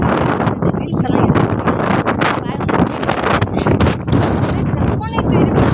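Strong wind buffets a phone microphone outdoors in Ooty, a loud continuous roar with gusting swells and flutter throughout, and a voice speaks over it.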